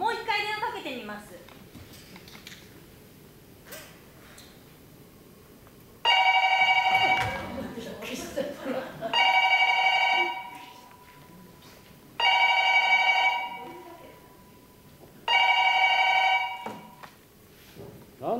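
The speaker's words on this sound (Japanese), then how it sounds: "私広明にもう一回電話かけてみます" A telephone rings loudly as a stage play sound effect, sounding four separate trilling bursts of roughly three seconds each with short pauses between them, while actors talk and move about underneath.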